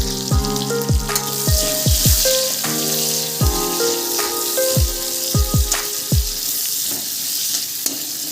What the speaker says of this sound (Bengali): ভাজা হয়ে গেছে এবারে দিয়ে দেবো পেঁয়াজ কুচি